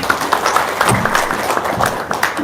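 Scattered clapping from a seminar audience in a hall, uneven bursts of hands rising and falling over a couple of seconds at moderate loudness.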